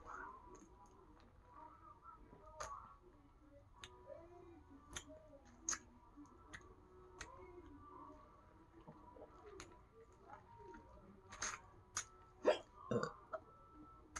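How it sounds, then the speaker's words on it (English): Repeated hiccups from a person who has just eaten a sour lemon: a dozen or so sharp, irregularly spaced catches, faint at first and louder toward the end, with soft vocal sounds between them. "How did I get hiccups from that?"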